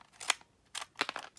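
Scissors snip through a freshly printed packaging label for a lash company, three quick, crisp cuts spaced apart, close and fairly quiet with no talking.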